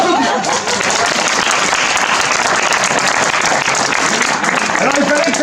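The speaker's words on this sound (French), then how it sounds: "On va les applaudir." An indoor audience applauds heartily with loud, continuous clapping, a few voices and chuckles mixed into the steady roar throughout.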